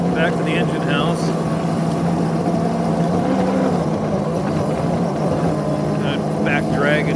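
A vehicle engine drags a snow plow back toward an engine house during the 2024 blizzard, a steady, loud, close rumbling drone throughout, with a voice briefly heard over it at the start and end.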